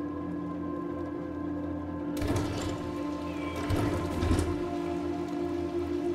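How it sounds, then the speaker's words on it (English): Rain falls in the video game Little Nightmares 2, starting abruptly after a low ambient drone and then pattering steadily over a background hum, swelling briefly louder midway, with no talking. "because it's raining"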